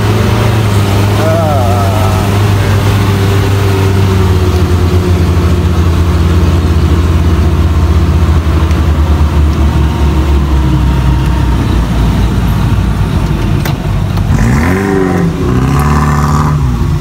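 A jeep climbs a steep, winding slope in low gear near the Breksit cliffs in Jogja, its engine a loud, constant, close drone that strains and revs harder near the end, with voices talking over it.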